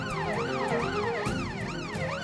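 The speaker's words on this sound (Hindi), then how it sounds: "ये तो दीदी पुलिस की सायरन की आवाज है, और अपने ही घर के बाहर से आ रही है।" A police siren wailing just outside a house, its rising and falling sweeps repeating quickly and loud, nearby and alone without talk.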